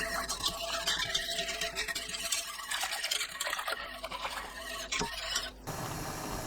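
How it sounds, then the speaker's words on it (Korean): Wheat flour and buckwheat flour are stirred into a liter of water for a summer radish water-kimchi porridge, heard as steady close scraping and swishing of a utensil against the bowl with small squeaks. Nobody talks. "밀가루 1큰술, 메밀가루 1큰술, 물 1리터 넣고 가루를 풀어주세요."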